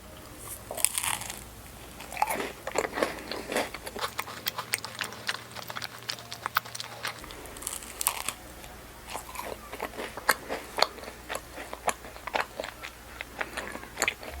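Crisp, crunchy bites into a cheese-flavoured macaron, close to the microphone, with repeated sharp crackles and chewing through the clip and no talking.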